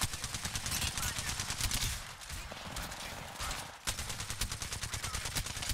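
Sustained automatic gunfire crackles in Apex Legends, rapid steady shots in long bursts with a short lull midway, fairly close and continuous, with no talk over it.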